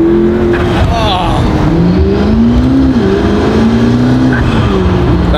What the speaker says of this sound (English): Drive the P1 right now in this busy, crazy place.